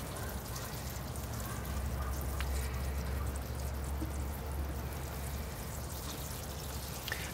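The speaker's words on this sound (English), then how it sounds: "All right, here I go with the water. Give it a good thorough watering." Water poured onto the soil of a potted bonsai ivy for a thorough watering, a soft continuous splashing and trickling that runs steadily for several seconds, fairly quiet and close, with no voices.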